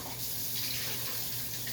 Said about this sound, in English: let me add some more hot water to this